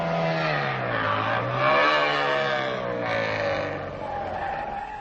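Rally cars on a mountain stage of the 1978 Danube Rally in Romania, with Skoda, Saab and Dacia entrants, an engine revving up and down through gear changes as a car passes close, loud and sweeping, then fading slightly.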